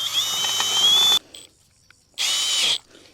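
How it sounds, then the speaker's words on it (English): Power drill driving a self-tapping screw into a Quonset greenhouse end wall, two short bursts of high whirring, the first about a second long, then a pause and a second briefer burst, close and loud. "I'm just going to use a self-tapping screw to get it secured"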